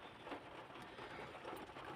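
Evening rain falls steadily, a faint, even, broadband patter and hiss that continues unbroken without any voices.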